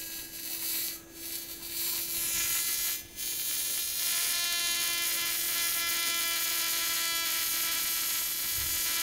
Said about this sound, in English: The rotor's going into overdrive.